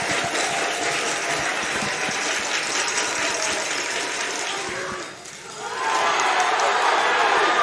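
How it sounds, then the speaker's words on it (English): High school baseball fans of North Lincoln at a 3A state championship game make a steady roar of crowd noise, a brief dip and then swelling louder again, with a commentator's voice underneath. "Now the North Lincoln fans start to make some additional noise"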